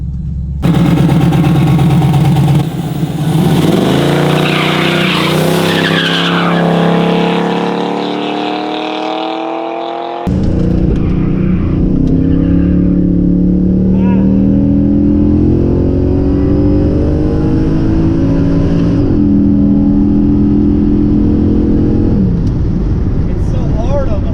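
A Buick Regal revs hard during a street burnout, its engine roaring loud and close with climbing and falling pitch as the tires spin, a brief drop before the roar resumes, with talking over it.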